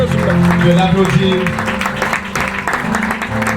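An audience at a graduation ceremony claps loudly and steadily, a broad wash of many hands with a voice sounding over the start before the clapping carries on alone.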